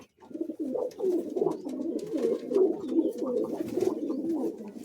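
Flying pigeons in a loft coo close by in a continuous run of soft, throaty, warbling calls that overlap and repeat steadily, with no talk.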